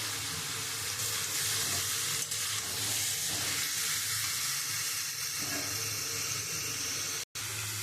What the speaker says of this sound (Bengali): আমি এবারে লাল লাল করে খুব ভালো করে আমি মাংসটা একটু কষিয়ে নেব